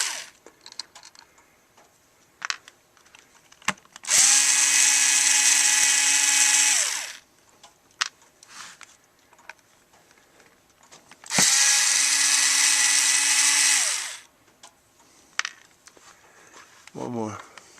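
A Ryobi HP44L cordless screwdriver whirs in two steady bursts of several seconds each as it backs screws out, close and loud, with small clicks and handling noises between them.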